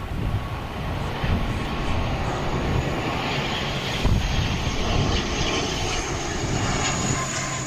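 Qantas passenger jet landing at Wellington Airport beside Lyell Bay, a steady, loud broadband engine roar that holds throughout with slight swells, no voices.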